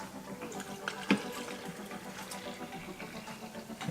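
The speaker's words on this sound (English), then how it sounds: "we're just going to mix this up with about 400 mils of water." Tap water running steadily into a shaker bottle, about 400 ml for mixing a pre-workout drink, a close, continuous splashing stream with no talk.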